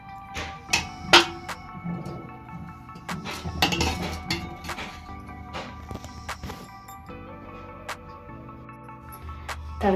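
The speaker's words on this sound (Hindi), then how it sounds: "तड़का लगाने के लिए हम कढ़ाई चढ़ा दिए हैं, मीडियम साइज पर कर दिए हैं" A metal kadhai set down on a stove over medium heat for tempering bathua dal, giving a few sharp clinks and knocks of metal, with softer clattering of pots and utensils scattered across the rest.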